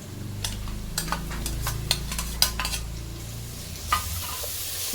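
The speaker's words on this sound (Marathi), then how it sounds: "कांदा ब्राऊन झालेला आहे बघा कांदा तरी अजून थोडा लागेल आता आपण आलं लसूण पेस्ट टाकून" Ginger-garlic paste fries with browned onions in a pot for crab biryani. A spoon scrapes and clinks against the pan in irregular strokes over a steady close sizzle.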